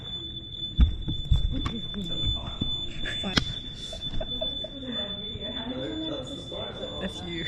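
A smoke or fire alarm sounds continuously as a steady high-pitched tone on a university exam day, running under indoor chatter and nearby voices throughout.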